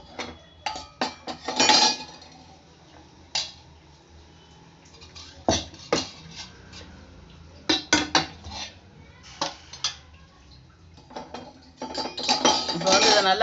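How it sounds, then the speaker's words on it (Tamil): Jaggery syrup for Karthigai appam strained through a strainer in a kitchen: scattered clinks and knocks of metal vessels and utensils, with faint dripping between them, up close. "இப்போ வந்து இதை நல்லா வடிகட்டிக்கிறணும்."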